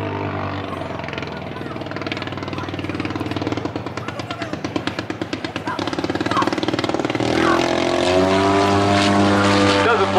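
A WWI Fokker monoplane at an airshow runs its engine and propeller slowly, a loud rapid chugging pulse that quickens and swells partway through, with a voice talking over it.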